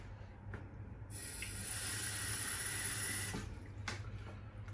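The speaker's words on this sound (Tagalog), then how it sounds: "Inalagyan ko na muna ng tubig." A kitchen tap runs into a cooking pot, filling it with water for adobo. The stream starts abruptly, hisses steadily for a couple of seconds, then stops, with faint clinks before and after.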